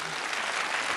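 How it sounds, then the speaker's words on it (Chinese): Audience applause fills a theatre at a crosstalk comedy show, a dense, steady wash of clapping throughout the brief moment with no voices over it. "您这还给鼓掌呢？"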